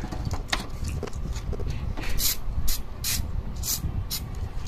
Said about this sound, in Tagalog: Spray mo ng DW40.